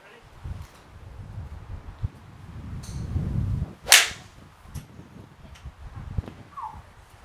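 A golf ball struck with a PXG 0311X 2 iron on a driving range gives one sharp, loud crack midway through, set against low wind rumble and faint rustling outdoors.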